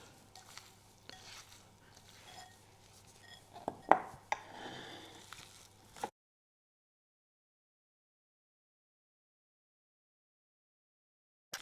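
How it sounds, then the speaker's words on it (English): Bok choy bun filling mixed by hand in gloves, giving soft, irregular squelching and rustling handling sounds for about six seconds, with one sharper knock midway, followed by silence. "We're just going to mix that with hand."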